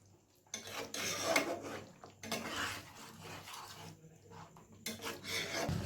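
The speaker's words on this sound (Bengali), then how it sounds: "এরপর আমি একটু নাড়াচাড়া করে নিচ্ছি।" Chicken korma with ground spices being stirred in a pan, bursts of scraping and rubbing from a spoon against the metal separated by short pauses, close but fairly quiet.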